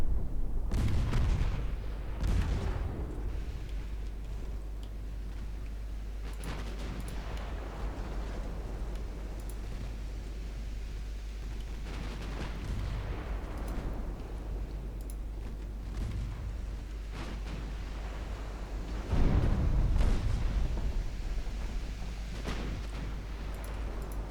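Naval guns firing high-explosive shells during a warship battle in the video game Ultimate Admiral Dreadnoughts: repeated deep booming salvos at irregular intervals over a constant low rumble, the loudest volley near the end.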